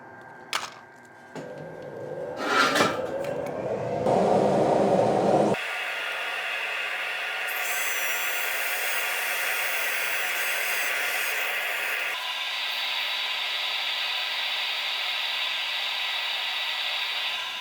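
Some clattering handling gives way to a power sander's steady high whine and hiss against a turned square wooden plate, running continuously with a shift in pitch partway.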